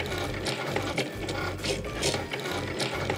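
A Cricut machine cuts vinyl letters with a close, steady mechanical whir broken by quick ratcheting clicks and carriage movements, heard alone without talk.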